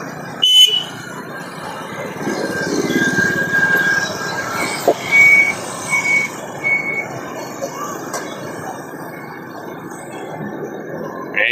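Busy street traffic in Saigon, Ho Chi Minh City, with oncoming motorbikes passing close: a steady engine rumble and hiss, with occasional horn toots and brief sharp noises over the continuous flow.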